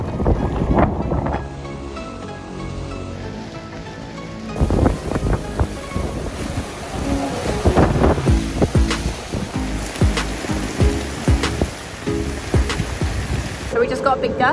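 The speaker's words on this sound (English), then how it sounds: "So we just got a big gust and then a bit of a downpour" A strong wind gust and rain downpour lash a boat at sea during a cyclone, giving a loud, steady roar of wind and spattering rain with bumps and knocks, close and constant throughout.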